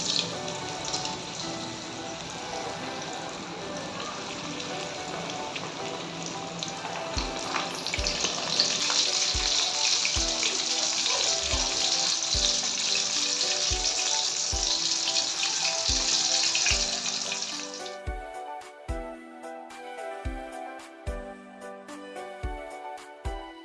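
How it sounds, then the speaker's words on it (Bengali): Chicken pieces for KFC-style crispy chicken fry in hot white oil, a loud, steady bubbling hiss that swells as pieces go in, with repeated sharp clicks and taps of handling, then quieter sizzling toward the end. "এখন একটা একটা করে মাংস আমি তেলের ভিতরে ছেড়ে দিচ্ছি।"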